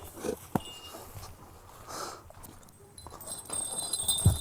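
Donkey hooves clip-clop on hard ground in a few uneven steps, fairly close, with quiet outdoor background and no talking.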